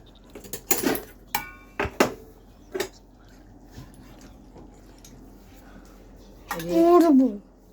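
Dishes and cutlery clink in a series of sharp, close knocks as cooked rice and food are served onto a plate for a meal, followed by a brief dog whimper, with a quieter stretch in between.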